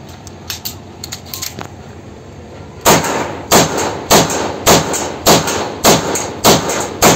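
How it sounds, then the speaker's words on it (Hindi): A black-and-white Beretta 92FS 9mm pistol loaded with ten rounds is test fired in a rapid, evenly spaced string of about eight loud, sharp shots after a few faint clicks. "अभी चेक फायर इस पर करते हैं।"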